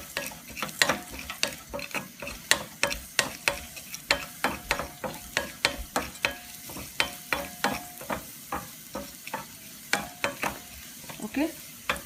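Sliced onions fry in hot olive oil with a continuous sizzle. A utensil scrapes and taps the pan in brisk, rhythmic strokes, close and prominent, with no talk.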